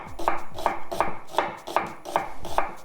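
A knife slicing an onion into thin slices on a chopping board, about eight steady, evenly spaced crisp cuts with light board taps, close and clear with no talking.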